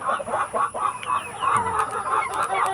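Native chickens on a rural Philippine farm cluck steadily in a close flock, a dense run of overlapping calls with no talk.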